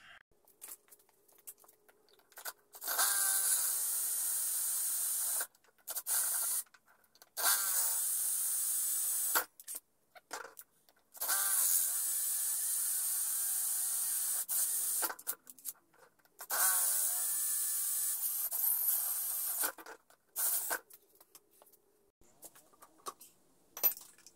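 Drilling out a stuck part on a Samurai 40cc minimoto engine, a high-pitched drill whining in several bursts of a few seconds each, separated by short pauses with faint workshop clatter.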